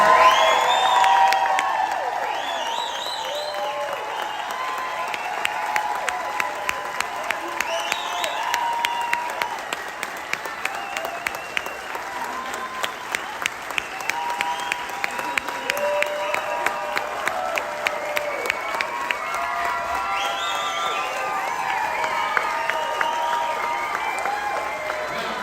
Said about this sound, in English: I think we all owe it to you to give you just the most enormous round of applause